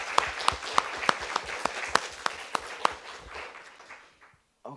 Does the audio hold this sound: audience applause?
yes